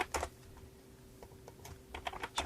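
Keys tapped on a computer keyboard while entering dimension values in CAD modeling software, a few quick scattered clicks in short bursts, faint and close with quiet pauses between, no talking.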